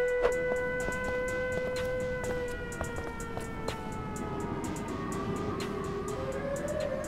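Rising and falling wail of a siren attributed to an angry Siren Head creature, steady over a rumbling background with repeated sharp clicks, loud and continuous throughout.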